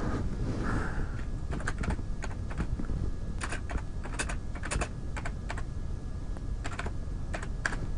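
A computer keyboard typed on at close range, giving quick clusters of crisp key clicks over a steady hum of background noise, with no talking.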